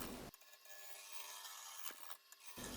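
Roughing gouge cutting a walnut blank on a wood lathe, a steady raspy scraping that runs for about two seconds, with brief dips as the tool shifts, and then stops.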